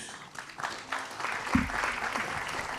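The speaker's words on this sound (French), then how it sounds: "On peut vous applaudir" Applause from a conference audience after a round table on solar power and electromobility, soft scattered clapping that swells and thickens midway, with a low thump near the middle.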